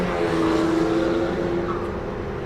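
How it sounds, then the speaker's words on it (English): An autonomous race car in a multi-car event briefly gasses it, a steady engine drone with a rising tone heard at moderate distance amid crowd and track ambience. "One of the cars just gassed it a little bit."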